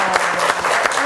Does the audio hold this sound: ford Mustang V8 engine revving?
no